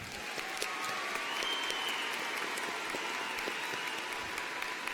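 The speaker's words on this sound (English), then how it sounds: "Let's give them another round of applause." High school graduation audience applauding, a continuous, even wash of many hands clapping at steady loudness throughout, with no speech over it.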